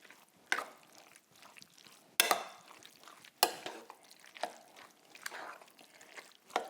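Meat sauce for lasagne is stirred in a pan, a series of soft scraping and squelching strokes with a few sharper knocks of the spoon against the pot, close and fairly quiet.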